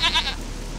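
A short, bright goat bleat from the RPG Maker game Vampires Dawn 2, two quick pulses in about a third of a second and then only a low hum.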